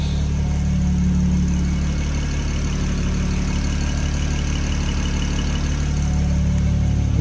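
A car with a single-turbo N54 engine and stock exhaust idles steadily with a low, even rumble and a mild exhaust note, close by and unchanging throughout.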